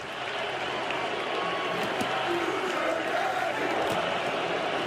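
A stadium crowd at a Michigan versus Indiana college football game keeps up a dense, continuous roar of voices, with a faint chant rising within the steady wall of noise.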